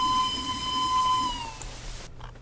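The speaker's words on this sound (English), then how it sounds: "Blow the whistle." A steam locomotive's whistle gives one long, steady tonal blast close by, then cuts off, leaving hissing and rumbling engine noise behind.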